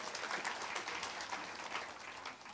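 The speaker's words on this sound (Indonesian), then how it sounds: "Berikan tepuk tangan yang meriah." A congregation gives lively applause during a sermon, a steady wash of many hands clapping at once, fairly distant and quiet, with no voices over it.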